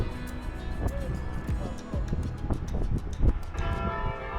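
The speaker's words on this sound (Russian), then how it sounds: "Колокольный звон не является прерогативой бывшей столицы" Church bells ring in Birgu, Malta, a busy clanging peal of repeated strikes over street ambience, fairly close and loud throughout.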